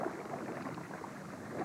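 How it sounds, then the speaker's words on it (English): A canoe is paddled on a lake, with quiet, steady water swishing and faint lapping around the hull in soft outdoor ambience. "Can you paddle towards them, Tim?"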